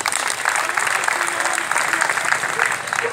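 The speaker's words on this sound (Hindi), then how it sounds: "जोरदार तालियां" An audience at a Republic Day function applauds warmly for a man honoured for donating blood more than 30 times, steady dense clapping throughout with some crowd voices underneath.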